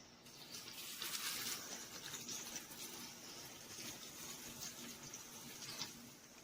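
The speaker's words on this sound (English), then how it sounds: "Now I'm adding 2 cups of boiling water." Boiling water is poured onto wood pellets and cardboard, giving a faint, steady splashing gush that swells and eases slightly over several seconds.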